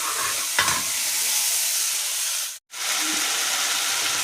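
Spices with red chilli are stir-fried in a pan, giving a loud, continuous close sizzle and hiss with a few stirring scrapes. It breaks off for a moment, then resumes.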